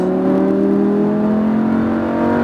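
A Lamborghini Huracan accelerating hard on a track, a loud, steady, close engine roar with a strong droning tone held throughout, no voices.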